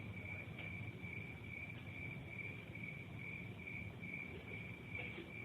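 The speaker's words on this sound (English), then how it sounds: "The crickets are out." Crickets chirp in a steady, continuous high trill, fairly faint against a quiet outdoor background with no talking.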